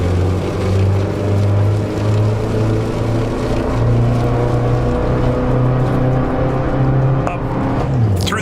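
A 1923 Grand Prix race car in Assetto Corsa, its low engine drone holding steady at modest revs through a long pull, ending in a brief falling pitch as the throttle eases.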